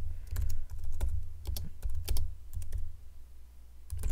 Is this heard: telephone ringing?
no